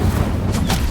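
Incendio fire spell cast in Hogwarts Legacy, a short whooshing flare over a low rumble, with two quick bright bursts close together near the end.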